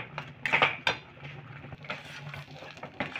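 Rice flour being stirred into cooked lentils in a bowl for moong puli pitha, with a spoon clinking and scraping against the bowl in a few quick, close bursts.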